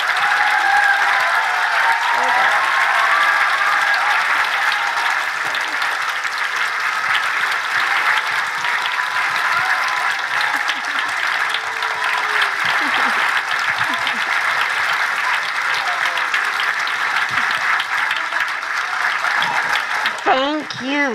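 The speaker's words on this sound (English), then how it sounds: "let's give them a big King applause," Sustained, dense applause fills a school gathering as the staff of a blue ribbon school stand, steady and loud for about twenty seconds with cheering voices mixed in.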